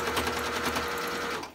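A sewing machine stitches a little black dress in a short, quiet burst of rapid, even needle chatter.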